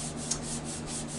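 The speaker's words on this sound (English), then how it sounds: "I'll continue sanding" Walnut live-edge crotch wood is sanded on a lathe, giving a continuous close rubbing hiss with a soft, even rhythm and a steady low hum beneath it.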